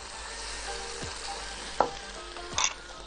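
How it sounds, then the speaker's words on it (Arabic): Chicken and mushrooms sizzle and fry steadily in a pan, with a few brief scrapes of stirring, heard close and fairly quiet. "ونستنى بس الفراخ كده يا دوب تبيض والمشروم يتشوح"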